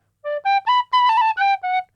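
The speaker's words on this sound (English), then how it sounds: "where I played this, my tin whistle." A tin whistle plays a short phrase of six clear, separate notes in quick succession, close and bright, with no other sound around it.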